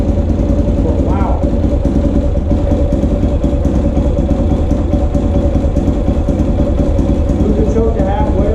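A Honda XR400R dirt bike idles on choke, a loud, steady, close thumping engine running without a break while a person talks over it.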